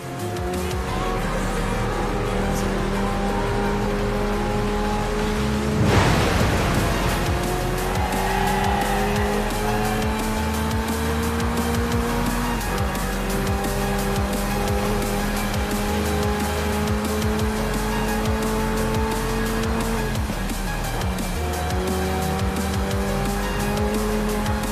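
Several racing cars from an Xbox One racing game, such as Forza Motorsport, roar through a high-speed track. Engines rise and fall steadily, with a loud burst of tire squeal and skidding near six seconds and another near twenty.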